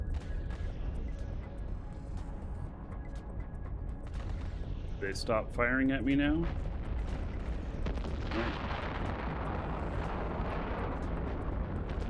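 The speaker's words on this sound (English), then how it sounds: "here's some more of the explosions" Spaceship explosions and weapons fire in the space combat game EVE Online, a steady dense rumble of booms and blasts running throughout, with someone speaking briefly midway.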